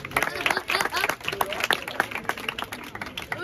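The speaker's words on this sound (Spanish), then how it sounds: "Un aplauso para ellos." Scattered clapping from a small audience, uneven and punchy, mixed with some voices in the background.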